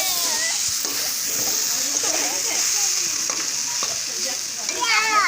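Puffed rice and tomato mixture with a little sugar sizzles steadily in a pan while it is stirred, a dense, close frying hiss with faint scraping and soft background voices.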